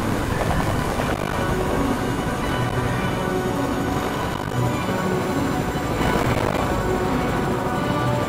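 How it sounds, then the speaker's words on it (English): A helicopter flies in the video game Fortnite, giving a loud, steady, dense rotor and engine roar that fills the whole stretch with no talking. "Now we just hop into the helicopter and fly away."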